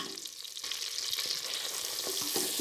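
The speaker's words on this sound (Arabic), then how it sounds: "نخلي الدجاج يتقلى مليح" Chicken seasoned with salt, pepper, turmeric and ginger fries in a pan with a steady, close, hissing sizzle, with faint scraping stirs now and then and no talk.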